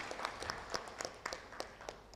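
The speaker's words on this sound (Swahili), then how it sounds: "Pigia tena makofi" An audience at a poultry and domestic bird exhibition launch claps in a brief, fairly faint burst of applause, with individual hand claps landing in a loose rhythm.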